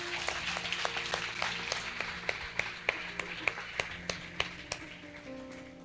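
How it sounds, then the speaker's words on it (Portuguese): A small church congregation claps in a steady rhythmic beat, sharp individual claps repeating under sustained music, moderately distant and fairly quiet. "Você pode aplaudir ao Senhor?"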